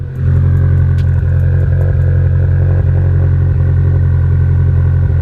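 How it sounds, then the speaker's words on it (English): A Mitsubishi Evo X with a new exhaust and turbo idles loud and close, a steady deep burbling drone with fine rhythmic pulses and a faint whistle on top. "You can definitely hear the turbo a lot more as well, which is kind of what I wanted."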